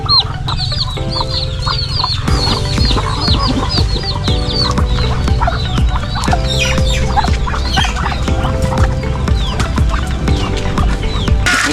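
Chickens cluck and squawk at feeding time on a farm, many birds calling close by in overlapping bursts over a steady low rumble of background noise.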